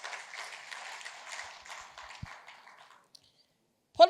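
Audience applause in a hall at the 43rd NAPE Nigeria Annual International Conference, a soft, distant patter of clapping that thins out and fades to silence, followed by a brief close knock.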